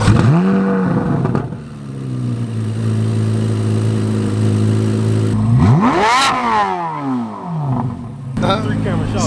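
A new Chevrolet Corvette Z06 engine at a race track revs hard and loud, holding a steady droning note before sweeping up and down in sharp blips, with speech mixed in.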